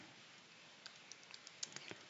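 Faint, quick typing on a computer keyboard while notes are copied in, starting after a quiet moment. Soft, scattered key clicks come in an irregular patter over a steady room hiss.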